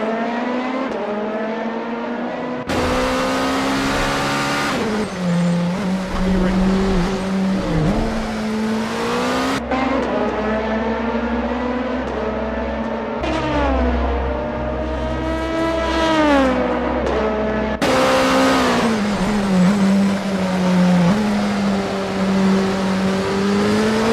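Race cars lapping in the Epilogue 5 Hours at Motegi racing game, loud continuous engine whine rising and falling through gear changes, with several cars overlapping and sweeping past throughout.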